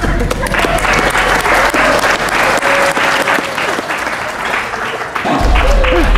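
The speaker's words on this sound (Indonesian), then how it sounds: "Tepuk tangan." A studio audience on an Indonesian TV matchmaking show claps loudly and continuously, a thick sustained wash of hands with some voices mixed in.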